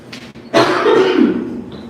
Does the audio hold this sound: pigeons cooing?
no